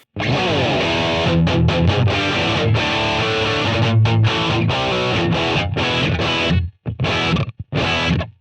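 Distorted electric guitar through a Boss GT-1000 Core effects unit plays loud chords and riffs, completely dry with no reverb, ending in short choppy stabs and silences.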